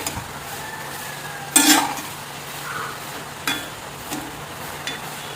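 A utensil scrapes and knocks in a pan while a green gram stir-fry (upperi) is mixed, with a soft sizzle beneath several short, close stirring strokes.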